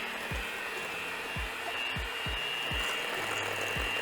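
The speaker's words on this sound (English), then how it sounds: "Mix that together." Eggnog, egg yolks and vanilla being mixed together in a bowl, heard as soft rhythmic knocks and scrapes about twice a second over a steady background hum, with no talking.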